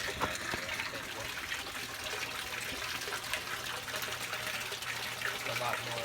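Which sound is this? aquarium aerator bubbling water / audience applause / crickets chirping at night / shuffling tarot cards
aquarium aerator bubbling water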